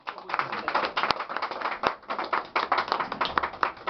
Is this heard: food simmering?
no